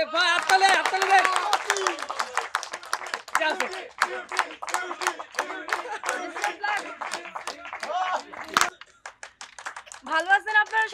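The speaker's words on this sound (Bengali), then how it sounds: "যে হাততালি হাততালি দেন" An audience claps in quick, uneven bursts for Beauty, a village girl celebrated as the village's viral daughter, at a staged community gathering, with raised voices and cheering carrying over the applause throughout.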